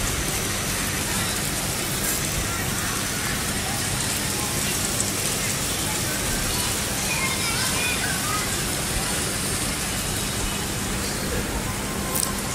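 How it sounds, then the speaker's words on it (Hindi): Heavy rain pours down steadily, a dense continuous hiss of drops hitting surfaces, loud and close throughout. "इतनी शदीद बारिश हो रही है अभी भी।"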